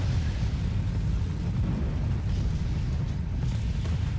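M26 T99 rocket barrage in the War Thunder tank game: a steady, low rumbling roar of rocket fire and distant blasts, fairly faint and continuous with no clear individual impacts.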